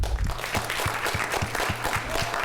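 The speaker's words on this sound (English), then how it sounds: "Can everybody give her a round of applause?" A crowd claps steadily and loudly throughout, a dense wash of applause with a few rhythmic claps standing out.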